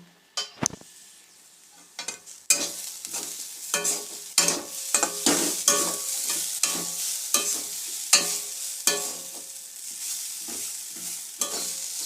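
Potato slices frying for alu bhaja get stirred in a pan, with repeated close scraping and clattering strokes of a spoon over a constant oily sizzle.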